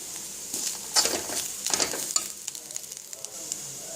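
Curry leaves and tamarind frying in a pan for a carrot chammanthi, with a crackling sizzle and several scraping stirs and light clinks of a spoon against the pan, close and without talking.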